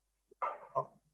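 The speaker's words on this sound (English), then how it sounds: "That's my dog." A pet dog at home lets out a soft, muffled double bark with a faint whimpering edge, fairly quiet and a little distant, with no talking over it.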